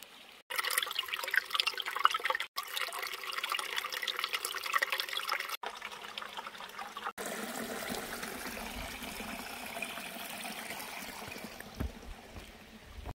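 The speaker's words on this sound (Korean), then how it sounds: "또랑물이 졸졸졸졸졸졸 내려가네요" Shallow ditch water trickles and burbles steadily beside an autumn mountain trail, a continuous close, moderately loud flow with a few brief dropouts and no talking.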